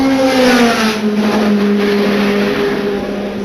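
A Formula 3 single-seater race car engine screams at high revs close by, its pitch sliding steadily downward as it passes, loud and continuous with no talk.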